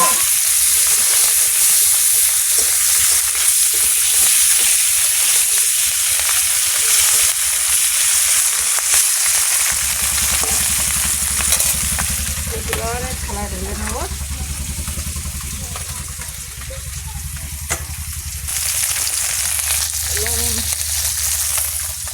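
Small puti fish fry in hot oil in a pan, giving a steady, dense sizzle and crackle throughout, with a faint voice-like tone rising briefly midway.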